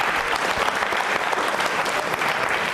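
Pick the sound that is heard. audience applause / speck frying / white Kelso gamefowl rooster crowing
audience applause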